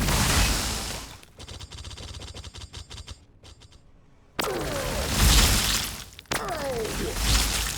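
Gunfire in the Warhammer Battlesector video game rattles in rapid volleys, broken by a sudden quieter gap, followed by loud crashing, impact-heavy battle noise.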